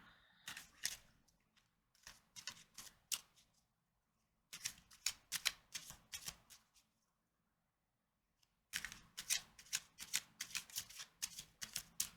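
Tarot cards are shuffled in three quiet bursts of crisp riffling and slapping, separated by short silences, with no talking.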